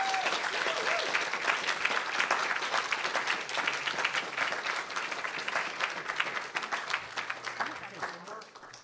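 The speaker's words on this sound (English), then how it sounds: "Please, more applause for Paloma." An audience at a faculty presentation gives a speaker sustained applause, a thick steady patter of many hands that stays strong before easing slightly near the end, with a few voices faintly mixed in.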